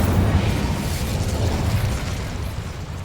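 An Incendio fire spell cast in the Hogwarts Legacy video game gives a loud, sustained whooshing roar of flame. Its heavy low rumble carries through about three seconds and eases off slightly at the end.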